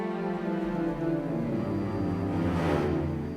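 Muted orchestral strings from the Orchestral Tools Berlin Con Sordino Strings library playing a sustained, smooth passage of quick runs without legato, soft and veiled, continuous and alone with no talking.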